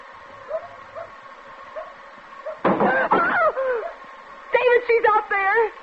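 A small dog yaps on a country road in an old radio suspense drama, giving two quick bursts of several high, whining barks close by over a quiet background hum.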